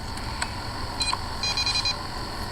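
An EMF meter emits a few short electronic beeps and a brief run of chirping tones during a night ghost hunt in a cemetery, heard close against steady background hiss.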